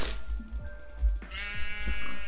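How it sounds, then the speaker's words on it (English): Sheep in the video game Minecraft bleat repeatedly, close and loud, several wavering cries in a row over a low rumbling background. "Come on, sheep."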